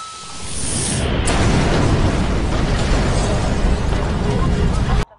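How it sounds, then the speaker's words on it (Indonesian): A loud, sustained roaring blast of a car bomb exploding in a parking lot, with heavy low rumble that fills several seconds, then cuts off abruptly. "bom yang di mobil parkiran tiba-tiba meledak."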